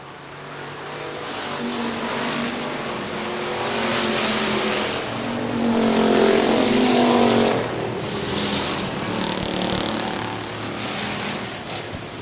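Factory stock race cars roar around the Hartford Speedway short track, a sustained engine drone that swells as the pack passes near and then fades slightly, with no commentary heard.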